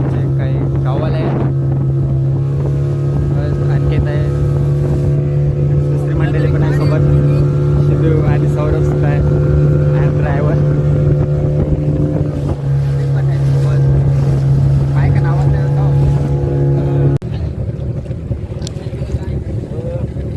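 Motorboat ride on the sea near Colaba fort off Alibag, a loud steady engine drone with strong low hum and wind buffeting, close and continuous, with a voice talking over it.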